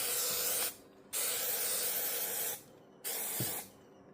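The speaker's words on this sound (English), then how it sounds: "Try to spray up under the pad first if your pad is lifted." Aerosol spray aimed up under the lifted dashboard pad of a peeling Rolls Royce dashboard, three loud close hissing bursts of about half a second to a second and a half, separated by short silences.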